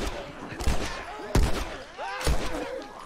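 Gunshots in the video game The Last of Us Remastered, three loud sharp blasts about a second apart, each trailing into a ringing echo with a rising whine, close and prominent.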